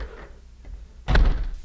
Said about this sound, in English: The door even shuts better.